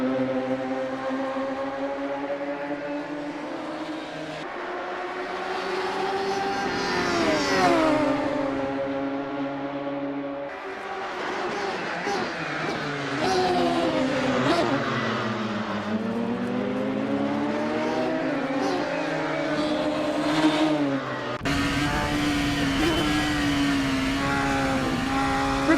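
A Radical SR3 race car engine at Mosport in Assetto Corsa howls continuously, its pitch repeatedly climbing under acceleration and dropping through gear changes and corners, loud and up close with no voices.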